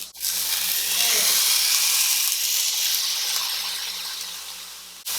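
Ribeye steak searing in a hot cast iron skillet gives a steady, loud broadband sizzle that holds for about five seconds, easing slightly toward the end, with a low electrical hum beneath.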